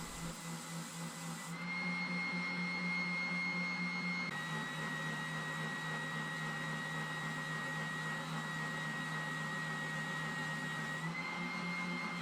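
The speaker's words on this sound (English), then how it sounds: "I'll do this by setting up a fence on my spindle sander and running the blank in from the bottom" A spindle sander fitted with a fence runs steadily as a wooden bass neck blank is fed in from the bottom, giving a continuous close motor whine with a pitch shift partway through as the load changes.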